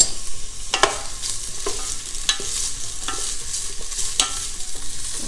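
Half a large, finely diced onion sautés in a tablespoon of olive oil in a stock pot, giving a steady close sizzle broken by occasional stirring scrapes, with no talking.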